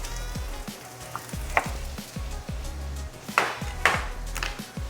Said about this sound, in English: And now I'm going to add the red peppers so that could cook.